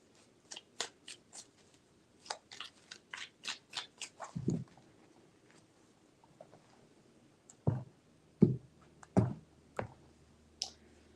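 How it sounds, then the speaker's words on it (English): Tarot deck handled up close: a string of light, quick card clicks and snaps, a pause, then a few heavier taps and thumps, quiet and without talk. "Three shuffles."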